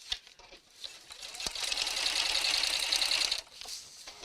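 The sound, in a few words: sewing machine stitching an evening bag seam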